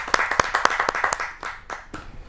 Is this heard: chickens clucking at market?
no